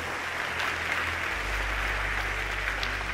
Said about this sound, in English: Big round of applause to this amazing team.